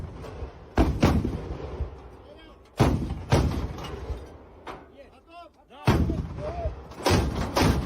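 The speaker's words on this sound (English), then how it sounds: "You see them lining up the anti-aircraft gun and now firing it off." An anti-aircraft gun firing in a war setting, several heavy booming shots in irregular bursts with rumbling echoes, heard under someone talking.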